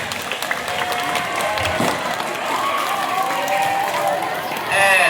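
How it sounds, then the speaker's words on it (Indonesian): An audience at a school Maulid Nabi celebration applauds the student council, steady crowd clapping with some cheering and voices mixed in. "Oleh karena itu, tepuk tangan untuk OSIS."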